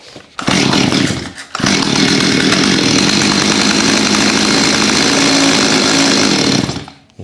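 A Stihl 025 chainsaw that had been trash-picked starts up after a brief stumble and runs loud and steady at idle with no throttle response for several seconds, then cuts off.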